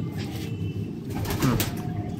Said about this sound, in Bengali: এটা আমার ঘরে একটা পাঠা নর পায়রা, ধাড়ি পায়রা।